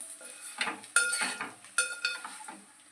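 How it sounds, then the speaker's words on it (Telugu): A spoon slowly stirs sweet potato curry in a metal pan, with a few sharp clinks and scraping strokes against the pan, close and fairly quiet. "అంతా కూడా ఇలా నెమ్మదిగా కలుపుకోవాలండి, ముక్క విచ్చుకుపోకుండా."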